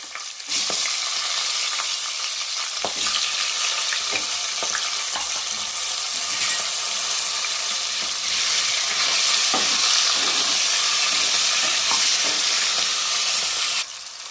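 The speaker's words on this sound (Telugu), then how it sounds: "ఇప్పుడు దీంట్లో మనం కట్ చేసుకున్న ఆనియన్స్, నేను యాక్చువల్గా ఇలా కట్ చేసుకున్నా 4 పీసెస్ కింద" Cut onions sizzle and fry in a pan for egg biryani, a loud steady hiss with occasional stirring scrapes, close and continuous with no talk.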